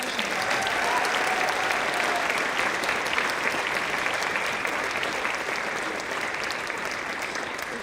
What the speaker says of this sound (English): let's give another big round of applause for our percussion